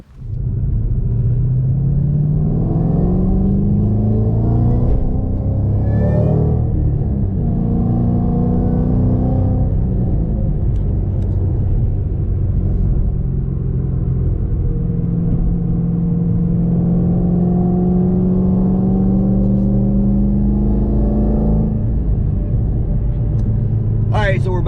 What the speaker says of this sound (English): we're back on the interstate and we are rolling again